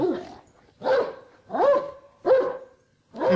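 A dog barks four times in a steady rhythm, each bark clear and fairly close, with brief quiet gaps between them.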